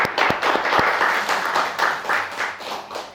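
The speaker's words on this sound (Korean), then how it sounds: "박수 한번 칩시다." A church congregation at a Sunday afternoon worship service claps and applauds together, a dense, steady patter of many hands that holds for a few seconds and then fades a little.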